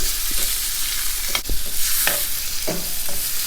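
Chicken frying in oil in a pan, stirred, with steady sizzling and scattered scraping stir strokes close up, no voices.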